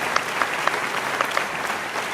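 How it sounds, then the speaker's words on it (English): A talk show studio audience applauds a singer, a brief burst of loud, steady clapping with a few sharper claps standing out. "Everybody give her a big round of applause for Clara"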